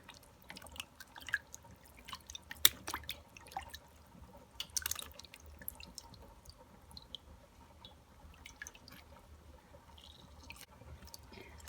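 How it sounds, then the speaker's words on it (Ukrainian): Small fragile wild mushrooms rinsed one at a time under a running kitchen tap, with soft intermittent drips and splashes and occasional wet squishing of the caps, fairly quiet and steady throughout. "Гриби в нас крихкі, тому буду їх так по черзі потрошечку мити."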